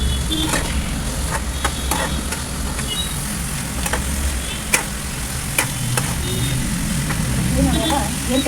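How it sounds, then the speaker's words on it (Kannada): Onion and capsicum fry for fried rice, a steady sizzle under a low hum with light scraping stirs and a few sharp clinks from the pan, continuous and close. "ಚೆನ್ನಾಗಿ ಎಲ್ಲ ಫ್ರೈ ಮಾಡಿ."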